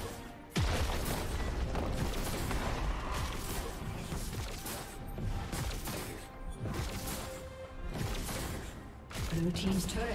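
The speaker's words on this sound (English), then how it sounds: "Blue team's turret has been destroyed" A turret being destroyed in League of Legends crashes and booms loudly, with repeated heavy impacts layered over busy game effects and a dense wash of combat noise throughout.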